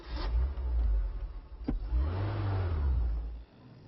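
An old, battered bush taxi car engine revs up and rumbles close by in a low, rough drone, with a sharp knock partway through before it settles into a steady idle.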